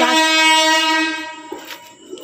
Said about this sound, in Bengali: এটা ট্রেন ঢুকছিল জানো